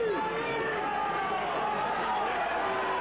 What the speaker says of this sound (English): The crowd's certainly getting warmed up now